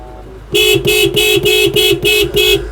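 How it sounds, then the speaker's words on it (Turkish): Original factory horn of a Honda Accord honking seven times in a steady rhythm of short, even blasts, loud and close, with no talk over it. "Kornası bile orijinal onun."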